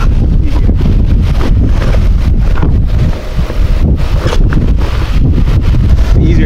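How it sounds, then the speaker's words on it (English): Strong wind buffets the microphone aboard a sailboat in the Bahamas, roaring and gusting loudly with a brief lull partway through. "Amid the building wind"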